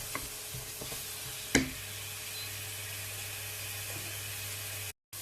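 Vegan bolognese base frying in a pan gives a steady low sizzle with a sharp utensil clack near the start, then cuts out briefly near the end.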